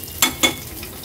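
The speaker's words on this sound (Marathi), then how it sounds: "सुकी लाल मिरची व्यवस्थित परतून घेते ही फोडणी।" Two short bursts of sizzling and crackling from dried red chilies frying in hot ghee for a tempering, close up, followed by a faint quieter sizzle.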